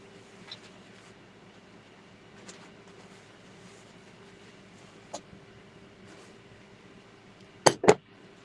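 A Harbor Freight breaker bar gives two quick metallic clinks in close succession near the end, after a long stretch of quiet room hum with only faint, scattered taps.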